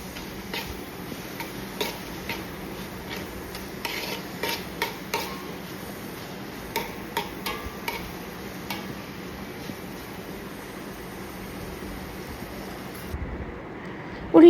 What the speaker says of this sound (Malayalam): ഇനി ഇത് നന്നായിട്ട് നെയ്യിൽ കിടന്ന് നല്ല രീതിയിലൊന്ന് വഴണ്ട് വരണം.